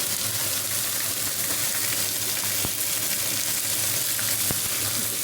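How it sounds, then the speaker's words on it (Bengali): Chicken fries in a pan with salt and turmeric, giving a loud, continuous close-up sizzle broken by a couple of sharp utensil clicks. "দিয়ে চিকেনটা একটু ভেজে নেবো, একটু লাল লাল করে ভেজে নেবো"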